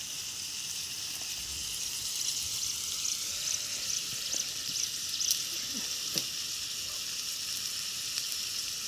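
Onions frying in a pot over an outdoor hillside fire, a faint, steady sizzling hiss with occasional small pops and clicks and no voices.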